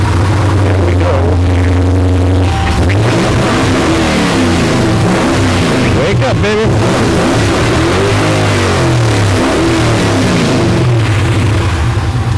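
A modified 700–800 HP Dodge Challenger V8 idles with a low rumble, then revs hard several times in loud, close bursts that rise and fall. Someone speaks briefly near the start.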